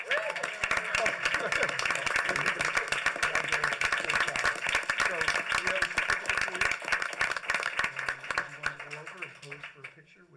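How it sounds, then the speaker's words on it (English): An audience claps at a school board of education meeting, a sustained round of applause that is loud and dense, then thins and trails off at the end. "How about a big round of applause"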